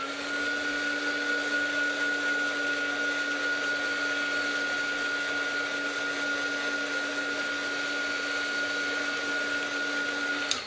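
A handheld heat drying tool blows steadily over slow-drying ink on an art journal page, a constant whirring hum with a high whine that holds evenly throughout and cuts off at the end.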